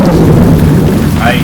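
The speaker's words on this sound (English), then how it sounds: "Captain, there's a storm brewing." Thunderstorm at sea aboard a sailing ship, with a loud continuous rumble of thunder and heavy rain filling the whole stretch, steady and close, and no clear speech over it.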